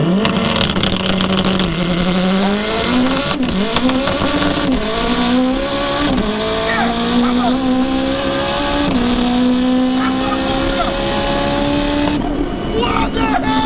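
A street-tired drag car carrying two people launches hard on a drag run, the engine roaring and climbing steeply through successive gears with loud revving rises and shifts, nearby and dominant.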